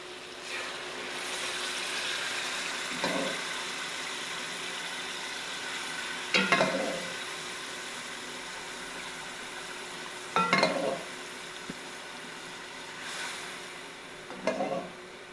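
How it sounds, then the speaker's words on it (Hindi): Yakhni stock goes into a sizzling chicken pulao pot, giving a steady, close frying hiss broken by several short bursts of stirring and pot clatter. "फिर अब हम जो इसके अंदर ऐड कर देंगे यखनी।"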